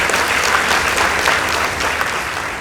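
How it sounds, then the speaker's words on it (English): Steady, loud applause from a large school audience after a high school debate, many hands clapping in a dense, even roar with no speech over it. "Let's give them a round of applause."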